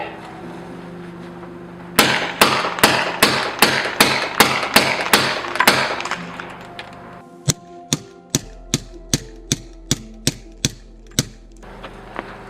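Suppressed shots from an FNX-45 Tactical pistol fitted with a Silencer Co Octane 45, fired at night: a steady string of about eight sharp cracks, a pause, then roughly a dozen more evenly spaced reports.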